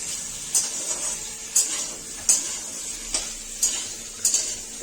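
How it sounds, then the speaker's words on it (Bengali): Potatoes frying in a pan, with sharp metallic clinks of a utensil against the pan at a regular pace, about every three-quarters of a second, over a soft background hiss. "আলুটা ভাজতে দিয়েছি এরকম দুটো ডুবো করে আলু দিয়ে ভাজছি"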